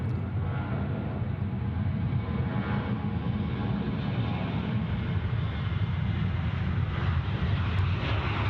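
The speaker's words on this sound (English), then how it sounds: "Here we go, quarter 737 now, rolling runway 34 right" A Qantas Boeing 737 rolls for takeoff on runway 34 right at Sydney Airport, a steady, broad engine roar and rumble heard at a distance, sustained and even throughout.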